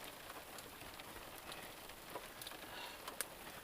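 Icy rain falls outdoors as a faint, steady hiss of fine drops with occasional sharper pattering ticks, heard alone without talk.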